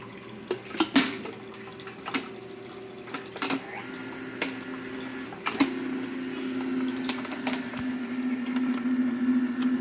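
Water poured from a reserve into a container to rinse it out while making pumpkin seed or almond milk, a steady running, gurgling stream that builds over several seconds, with small knocks and clinks, close by and no talking.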